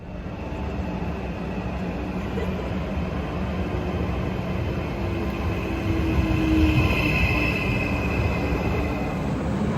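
A steady, loud rumble of a train in motion, with a faint metallic squeal rising briefly partway through, continuous and close.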